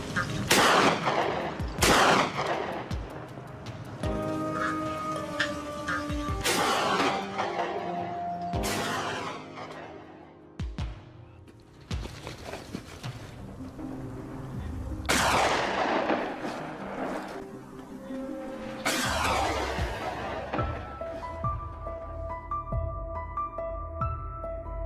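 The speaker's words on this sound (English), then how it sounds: "Gunshots rang out, startling the herd into a frenzied escape." Gunshots fired at a herd of wild boars near a French grape farm crack out loud and sharp, about eight shots at irregular intervals, each followed by a ringing decay, with no talk.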